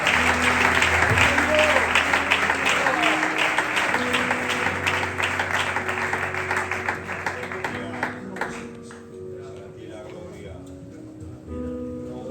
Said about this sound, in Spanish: Le damos un aplauso al Señor y los hermanos con nosotros.